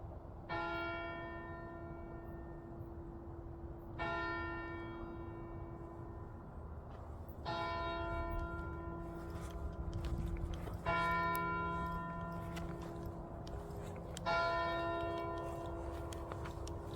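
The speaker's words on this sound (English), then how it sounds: "Can you hear them bells ringing?" A church bell tolls five times at slow, even intervals of about three and a half seconds, each strike ringing out and decaying over a quiet background, heard from a moderate distance.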